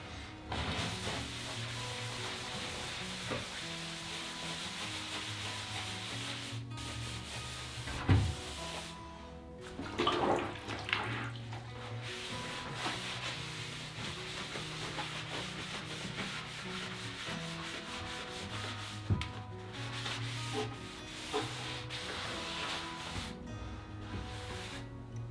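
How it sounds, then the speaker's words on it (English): A damp magic eraser scrubs freshly sealed tile grout with water during a farmhouse bathroom renovation. The steady, rasping back-and-forth rubbing runs continuously and close, broken by a few brief pauses and knocks, with no talking. "we're cleaning it up with this magic eraser so that way we can clean it off"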